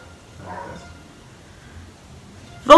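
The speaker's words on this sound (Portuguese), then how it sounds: "Ai, parou de latir." A dog gives a short, loud bark or yip at the very end, close by, after a stretch of quiet room noise.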